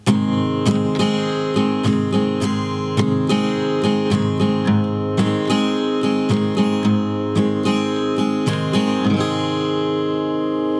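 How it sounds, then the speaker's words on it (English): Guitar strummed in a pop strumming pattern, with steady down and up strokes of ringing chords in an even rhythm, close and clear with no voice, ending on a fading chord. "It's called the pop strumming pattern, and it sounds like this."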